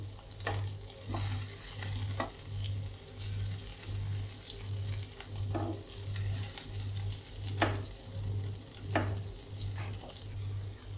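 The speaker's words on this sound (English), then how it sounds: "So now I'm going to flip the prawns." Prawns frying in oil in a pan for prawn masala, a loud continuous sizzle with scattered clicks and scrapes as they are flipped, close up over a steady low hum, no talking.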